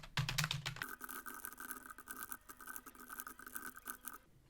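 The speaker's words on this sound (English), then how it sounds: "I'm just going to type them all out at once and hope I don't make a mistake with my loudest keyboard on the entire planet." Rapid, continuous clattering of keys on a very loud computer keyboard, dense irregular clicks with a brief heavier burst at the start, close and without talk.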